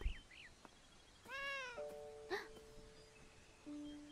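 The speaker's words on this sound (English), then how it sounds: "I heard the kitty." A cat meows in the Beyond Eyes video game, a few short rising mews followed by a longer drawn-out meow, fairly soft against quiet ambient game tones.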